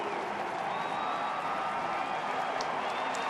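Baseball stadium fans at a Detroit at Minnesota game applauding a five-run inning: continuous distant clapping and crowd noise, steady and moderately loud, with a few faint whistles or whoops near the end.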